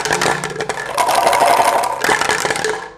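Plastic bottle holding a single large stone, capped tight as a homemade baby rattle, shaken steadily for about three seconds, giving a continuous loud clattering rattle close by.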